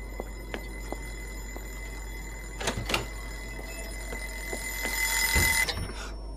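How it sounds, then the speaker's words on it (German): An alarm clock goes off inside the indie horror game Joe's Diner. Scattered ticks and clicks lead to a brief, bright ringing burst near the end over a steady electronic hum. "Jetzt hat er schon wieder den Wecker angestellt."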